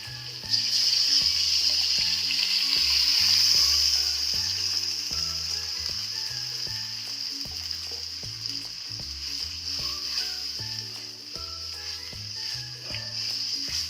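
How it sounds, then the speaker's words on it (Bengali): Boiled dal is poured into a hot tadka in a pan for tarka dal, raising a loud, continuous hissing sizzle that slowly settles, with a rhythmic musical backing underneath. "এবার আমি তরকার ডালটা দিয়ে দেবো এর মধ্যে।"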